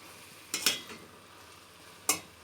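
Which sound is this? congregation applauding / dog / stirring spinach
stirring spinach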